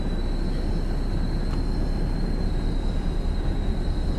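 Heavy 1,800-tonne freight train hauled by a single locomotive on the Glossop Line in Train Sim World 3, giving a steady, loud, continuous low rumble with a faint high whine running through it.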